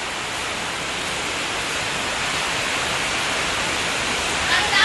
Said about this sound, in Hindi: आकाशर वर्षा